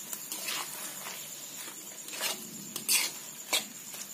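A utensil clinks and scrapes in a pan as tomatoes cook with masala and vegetables for chili paneer gravy, giving a string of light metallic taps and stirring sounds that are close and fairly quiet.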